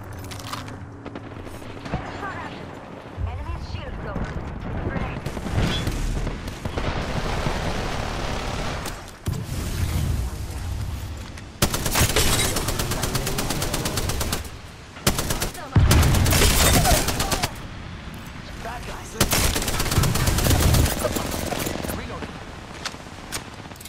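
Video game gunfire in a squad firefight: repeated loud bursts of rapid automatic shots, some long and some clipped, separated by quieter gaps, with players talking under and between the bursts.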